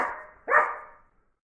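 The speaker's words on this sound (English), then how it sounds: "The dogs are barking today" A single dog bark sounds effect, one sharp close bark following a fading earlier sound, then quiet.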